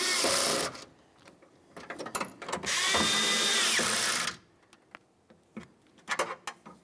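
A ratchet with a 10 mm socket tightens bolts on a power window motor and regulator assembly in a 2003-2011 Mercury. Two whirring bursts of driving are broken up by close, rapid clicking from the ratchet.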